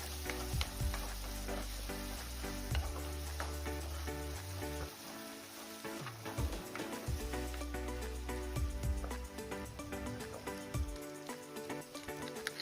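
Onions and spices frying for a spicy mutton curry, a continuous close sizzle with crackling pops and occasional stirring, no voices.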